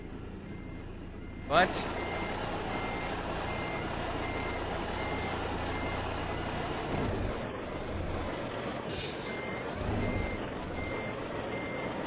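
Reversing beeps from a truck backing in American Truck Simulator, a steady repeating beep over a low engine drone with a couple of air-brake hisses, and someone speaking briefly.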